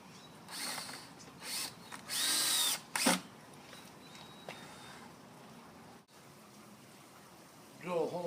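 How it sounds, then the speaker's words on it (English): A power drill whirs in a few short bursts, with one longer run boring a hole, amid quiet workshop sounds and brief clatter; the level is fairly faint overall. "Drill a hole in here"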